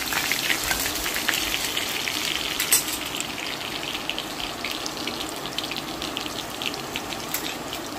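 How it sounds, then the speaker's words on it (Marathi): Garlic fries in hot oil in a pan with a steady, close sizzle and crackle. The hissing texture holds evenly throughout, with no voices. "तेल तापलं की त्याच्यामध्ये आपण टाकूया लसूण जरा चांगला भाजून परतून घेऊयात."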